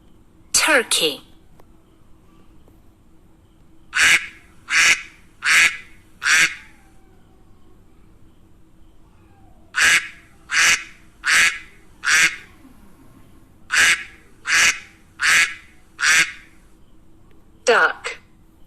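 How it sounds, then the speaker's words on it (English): Duck quacking in a farmyard, a steady series of sharp, nasal quacks delivered in quick groups of three or four with brief gaps, close and distinct. "Duck."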